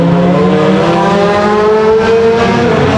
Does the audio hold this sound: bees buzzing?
no